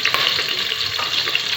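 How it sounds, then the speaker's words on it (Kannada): Chicken pieces dropped into onions frying in hot oil for a tempering, giving a loud, steady close-up sizzle with stirring scrapes throughout. "ಒಗ್ಗರಣೆಗೆ ಇವಾಗ ಚಿಕನ್ ಹಾಕಿ"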